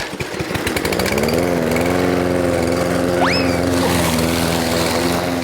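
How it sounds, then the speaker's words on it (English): A loud, steady lawn mower engine drones close by while cutting grass on a hillside, holding a constant buzzing tone throughout with no speech. "Even if it's the hard task of cutting the grass."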